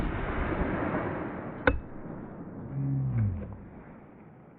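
A single sharp .357 SIG pistol shot at a denim and MDF target, a sudden loud crack with a short ringing tail, set over steady outdoor background noise.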